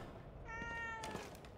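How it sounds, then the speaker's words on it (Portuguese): Cat meowing inside The Evil Within 2 video game: one drawn-out, tonal meow, faint and fairly close, set against a soft ambient game backdrop, with no speech. "Sai, gato."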